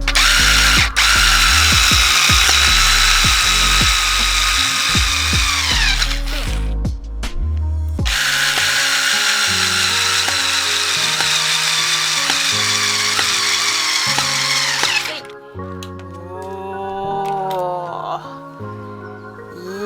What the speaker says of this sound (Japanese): 次はこのネジを使ってさっき穴を開けた木材たちを留めていきます